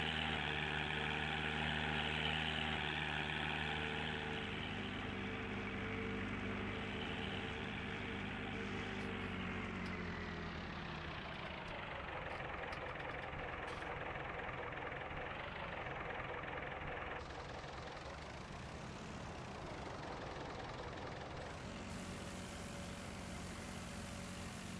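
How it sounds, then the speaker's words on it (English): A vehicle engine idles in Farming Simulator 19, a steady low rumble that holds for a long stretch at even loudness and shifts slightly in tone partway through. "Listen to that engine purr."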